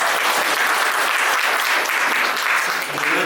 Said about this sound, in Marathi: एकदा टाळ्या वाजून गजरात घाला.